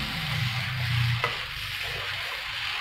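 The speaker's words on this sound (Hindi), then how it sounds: "अब हम इसको थोड़ा सा भूनते हैं अच्छा सा" Mutton with black pepper sautéing in a pan for Peshawari namkeen gosht, a steady close sizzle with stirring and a brief louder scrape partway through, no voices.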